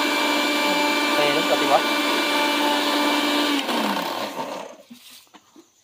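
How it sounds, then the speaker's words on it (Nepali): A mixer grinder grinds sesame pickle with a loud, steady whir that runs for about four seconds, then winds down and stops, leaving a quiet room with a brief spoken remark. "मम्मीले चाहिँ तिलको अचार पिसिराख्नु भएको रहेछ पुरा मिक्सर मेसिनमा"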